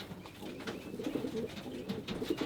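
Racing pigeons in a Texas loft coo softly, with repeated low, rolling calls and occasional light rustles, close by, no talk.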